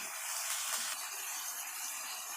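Chicken pieces fry in a karahi for a creamy black pepper chicken karahi, giving off a steady, close hissing sizzle with no talking.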